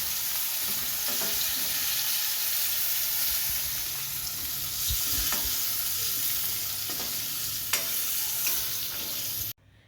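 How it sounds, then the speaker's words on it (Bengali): Black cumin seeds crackle and sizzle in hot oil while vegetables fry in a pan for a winter vegetable curry, giving a steady close hiss with scattered pops and a few stirring scrapes, ending abruptly. "এবার কালো জিরে ফোড়ন দিচ্ছি"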